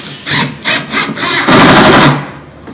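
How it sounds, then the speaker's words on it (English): Screw being driven into a wooden workbench panel, a series of loud rough grinding bursts in quick succession, close up, ending in a longer sustained grind. "I'm going to go ahead and put my first screw in just to hold us in place"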